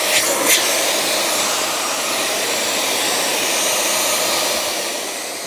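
A Dyson Ball Animal 3 upright vacuum cleaner runs with a steady, loud motor roar and airy hiss across the whole stretch, close by, with a brief start-up surge at the beginning.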